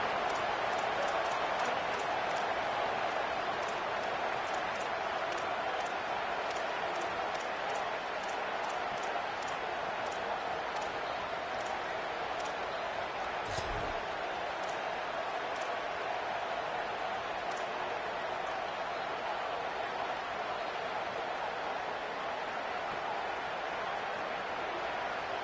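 A stadium crowd roars in an NCAA college football video game, a dense, loud and unbroken wash of noise that holds steady throughout, with faint rhythmic clicks on top.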